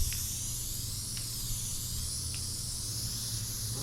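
A continuous hissing spray from an aerosol can, steady and close, with faint ticks and a low hum underneath.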